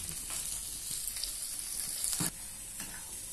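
Chopped capsicum, carrot and corn sautéing with garlic in a pan, a close, even sizzle with a few clattering stirs, one sharper scrape near the middle before the frying settles slightly quieter.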